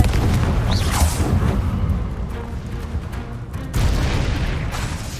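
Confringo fire spell from Hogwarts Legacy exploding, a loud sustained boom with a whooshing burst early on and a second heavy blast swelling near the end, dense low rumble throughout.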